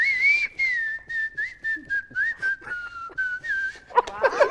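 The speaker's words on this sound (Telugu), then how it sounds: "చెప్పు విజిల్ లో ఈ పాట" A man in a film interview whistles a song tune, a clear, close melodic whistle in short phrased notes, ending with a burst of voices or laughter.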